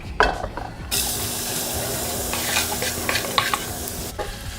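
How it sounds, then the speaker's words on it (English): Onions and garlic sauté in hot oil for a Filipino eggplant omelet filling. A steady, close sizzle starts abruptly and runs throughout, broken by scraping stirs and small pops. "Once your oil has heated through, we are going to go ahead and saute the onions and garlic."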